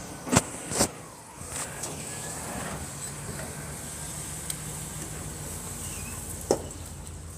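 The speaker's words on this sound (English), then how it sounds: "That was a car leaving his parking spot" A car pulls out of a parking spot on a street, its engine a steady low hum under faint outdoor noise, with a few sharp clicks and knocks early on and another near the end.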